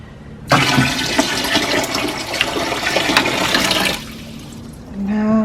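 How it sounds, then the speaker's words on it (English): Water gushing and pouring into a home fish nursery tank, a loud, continuous rushing flow that starts abruptly, runs for several seconds, then cuts back to a quieter trickle. "Let's put more water."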